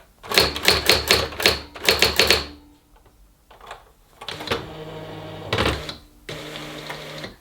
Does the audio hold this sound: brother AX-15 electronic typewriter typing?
yes